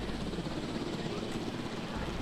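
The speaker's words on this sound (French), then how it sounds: "Hop, hélicoptère, pilote hélicoptère du coup." Helicopter in the video game Jurassic World Evolution, a steady whirring rotor and engine drone holding at an even level throughout, with no clear speech over it.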